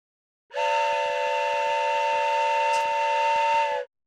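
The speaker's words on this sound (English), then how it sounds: "Loud train whistles." Steam train whistle blasts in Steambot Chronicles, a 2005 PS2 game: one loud, steady multi-tone whistle held for about three seconds, standing alone and cutting off abruptly.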